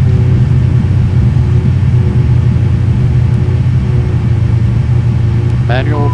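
A Boeing 777 rolling out after landing at Dakar with engines at reverse idle, a loud, steady low rumble filling the cabin, with a short voice callout near the end.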